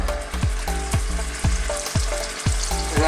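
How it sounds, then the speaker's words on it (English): A tuna steak fries in oil in a pan, crackling and sizzling steadily up close, with evenly spaced scraping knocks from stirring. "So we have to fry the tuna fish, just half fry."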